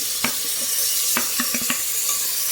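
Onions and tomatoes sautéing for a wedding-style mutton dum biryani, a steady sizzle under a handful of distinct ladle scrapes and knocks against the pot, close and without talk.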